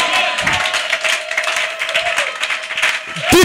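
A church congregation at a French-language service claps and cheers together, a continuous noisy wash of applause and shouts under a loud voice.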